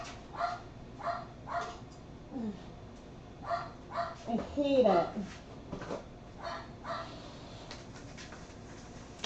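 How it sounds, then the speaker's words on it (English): An indoor dog barks repeatedly in a house, a series of short muffled woofs spaced through the stretch, moderately loud, while a person speaks briefly between them. "The worst is occasionally he'll start barking right when I'm about to talk and give a sentence."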